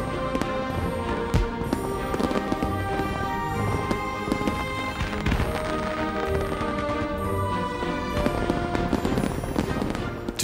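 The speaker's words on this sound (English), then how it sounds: "people all over the world take delight in the colourful rockets in the night sky" Fireworks burst in a night sky, a dense and loud barrage of rapid cracks, pops and bangs that runs without pause the whole way through.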